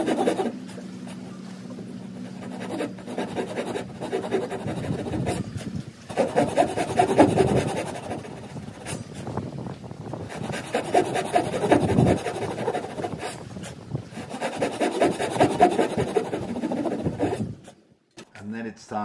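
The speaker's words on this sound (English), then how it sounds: "I then made a series of cuts into the clamp." A handsaw makes a series of cuts into a timber shear clamp on a wooden boat. The strokes rasp steadily and repeat in rhythm at close range, with a low hum under the opening seconds.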